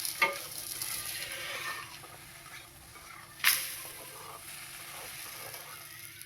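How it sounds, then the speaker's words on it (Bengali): Ridge gourd with turmeric powder being stirred and fried in a pan, a steady soft sizzle with scraping stir strokes and a sharp clatter near the middle, close and moderately quiet with no voices. "দিয়ে দিচ্ছি পরিমাণ মতো হলুদ গুঁড়ো, দিয়ে আবারও নেড়ে চেড়ে ভেজে নিচ্ছি।"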